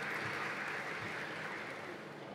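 An audience at a re:publica 2022 conference talk on renewable energy claps in a steady, dense wash of applause, somewhat distant and fairly quiet, with no talking over it.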